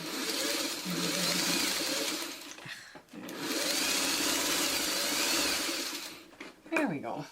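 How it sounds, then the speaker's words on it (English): A sewing machine stitches fabric strips onto a foundation for a flying geese string quilt, running in two long steady bursts with a brief pause between them, close and fairly loud, with a short rustle of fabric near the end. "I'm just going to grab another big piece and sew it on."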